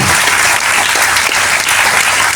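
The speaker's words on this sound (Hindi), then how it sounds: "सभी बच्चे जोरदार तालियां बजाएं, जोरदार तालियां बजाएं सभी" Children applauding at a school event, loud continuous clapping from a large group of students, close and sustained without a break.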